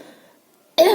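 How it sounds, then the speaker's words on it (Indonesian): A woman gives a single sharp, close cough at the very end after near silence, abrupt and fairly loud. "Iya batuk bunda ini."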